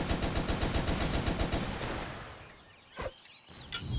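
Machine gun fire in Toy Soldiers: War Chest, a fast steady stream of close, loud shots for about two seconds, then fading, followed by two isolated sharp impacts.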